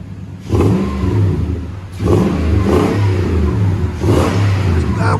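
Nissan Titan 5.6L V8 revving through an aftermarket exhaust, three loud bursts that rise and settle, each a deep throaty swell over a steady idle rumble, close by with no talk.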